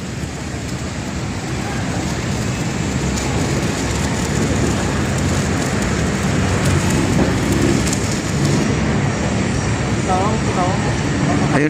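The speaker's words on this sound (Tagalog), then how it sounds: "Ayun, umaambon na naman guys." Drizzling rain falls outdoors at an unfinished bridge construction site, a constant close hiss of drops that stays steady while a person talks over it.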